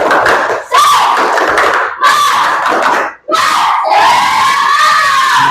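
A primary school class shouts a loud group spirit chant mixed with claps and thumps, in bursts separated by brief pauses; many children's voices are close and energetic.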